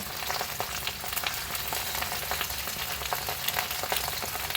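Ginger and onion fry in a pan with a steady, dense sizzle and crackle throughout, close up, with no talking.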